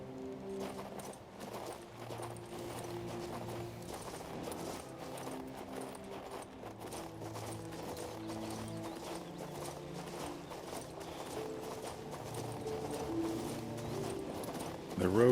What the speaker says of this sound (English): Let's get our horse. Come on, Roach. See if we can get up these steps